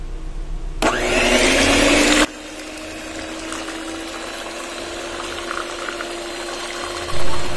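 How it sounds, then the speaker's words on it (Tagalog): Electric hand mixer beating choco banana muffin batter, a loud steady whir running about a second and a half before cutting off, followed by a quieter kitchen background. "Sunod, haluin gamit ang ating mixer."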